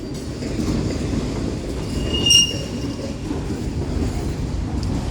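CSX freight train of auto racks rolling past close by, a loud steady rumble and rattle of wheels with a brief high squeal partway through.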